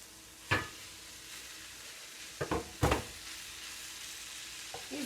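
Noodles go into sizzling taco meat on a turned-down stove, a soft continuous frying hiss broken by a few spoon or pan knocks as they are stirred in, fairly quiet with no talk.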